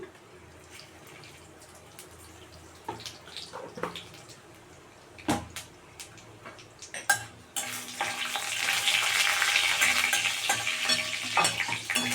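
Panch phoron five-spice seeds hitting hot oil in a pot while cooking mung dal, first with scattered stirring clinks and scrapes, then a loud, steady sizzle that swells and holds for the last several seconds, with no talking.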